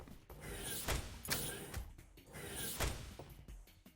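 A door in the video game Ghost 1.0 opening with a loud creaking, ratcheting mechanism, repeating in several grinding mechanical cycles with sharp clanks.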